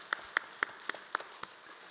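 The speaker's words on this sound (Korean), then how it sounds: "우리 기도 들으신 하나님께 영광의 박수를 올려드리겠습니다." A congregation at a Monday intercessory prayer meeting at a Korean church claps after a prayer: sparse, distinct individual claps at a roughly even pace, about seven sharp hits over a faint room background.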